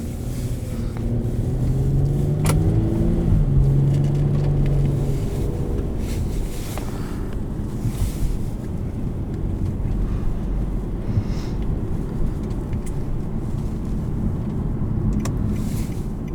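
2013 Infiniti G37xS with seven-speed automatic driven in sport mode, heard from inside as a steady engine drone with road and wind rumble, one brief rising rev early, fairly loud and continuous.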